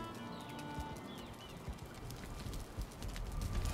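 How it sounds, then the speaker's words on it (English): A bird spawns in the video game Valheim, giving brief chirping calls and a soft flutter over a steady, busy game ambience. "Did the bird just spawn?"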